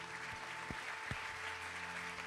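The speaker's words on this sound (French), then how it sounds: "On peut applaudir SparkUp." Steady applause from an audience at an events-industry awards night in Lyon, a continuous patter of clapping hands at moderate distance, with no voices over it.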